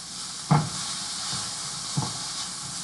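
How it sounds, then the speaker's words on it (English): Continuous sizzling of garlic in a hot pan, with two soft clinks or stirring knocks over the steady frying hiss. "Listen to that sizzle."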